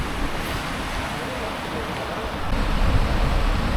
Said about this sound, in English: it's actually a really quick moving river